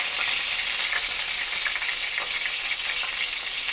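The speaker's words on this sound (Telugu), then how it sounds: "కడా కడాయ్ ఒడియారండి ఒడియారు ఇట్లా వేయించుకుంటారన్నమాట" Vadiyalu, sun-dried fritters, frying in oil in a kadai, giving a dense, steady sizzle with fine crackling, close and even throughout, with no voices.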